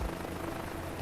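Helicopter engine and rotor in Microsoft Flight Simulator 2024, a dense, steady low rumble with a churning beat, loud and continuous for about a second, no talk.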